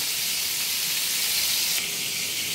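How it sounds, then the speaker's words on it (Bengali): Moong dal lightly frying in a pan, a steady close hiss of sizzling oil that stays even and unbroken throughout with no talk. "আমি হালকা করে ভেজে নিচ্ছি যাতে কাঁচা গন্ধটা না থাকে, তবে একটু কড়া করে কিন্তু ভাজবো না"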